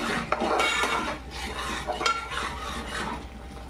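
Food being stirred in a pan for a quick breakfast made from poha and semolina, with continuous scraping and clinking of a utensil against the pan, fairly close and steady for several seconds, no talking.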